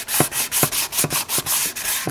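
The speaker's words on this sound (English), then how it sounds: "I'm going to come in and sand those areas and smooth them out to get rid of the rust." Wet sanding of rust on the air filter housing of a 1980 Mercedes 280SE Euro makes a close, rhythmic scrubbing, about eight even back-and-forth strokes with a raspy hiss.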